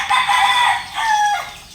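A rooster crows nearby, loud and clear, one drawn-out call in two strained parts that trails off, with no talking over it.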